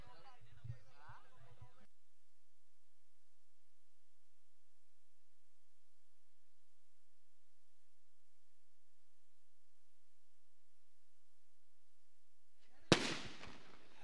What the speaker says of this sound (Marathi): फटाक्याच्या आतिषबाजीमध्ये आपण पाहतोय पाहुण्यांचं स्वागत केलं जातंय